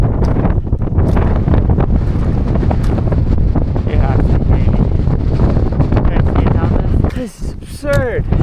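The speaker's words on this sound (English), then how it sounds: "Alright, we're at the ridge, about to get hit by a bunch of wind." Strong wind roaring across an exposed mountain ridge on a route from Verbier to Saint Bernard via the Gran Combin, a loud continuous buffeting that batters the microphone, briefly easing near the end as a voice speaks through it.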